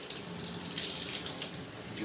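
Cool water from a tap streams steadily over a dirty HRV air exchanger filter being rinsed in a sink, a close, even rush with splashing, short and unbroken.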